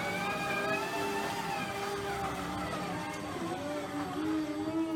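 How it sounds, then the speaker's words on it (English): A fully battery-operated 1.5-yard underground loader at work gives off a steady, layered electric whine that shifts slightly in pitch, heard up close with no talking. "You hear that electric whine to the thing?"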